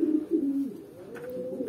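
A racing pigeon coos close by, a few low throaty rolling calls, with a quieter soft coo trailing after.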